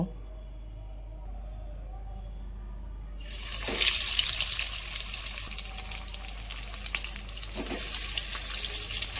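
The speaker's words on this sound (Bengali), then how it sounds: "তেল গরম হয়ে গিয়েছে, এবার এক এক করে ফিশ ফিঙ্গারগুলো ভেজে নেব।" Bhetki fish fingers are lowered into hot oil and erupt into a loud, dense crackling sizzle after a quiet start, with a couple of sharp pops as more pieces go in.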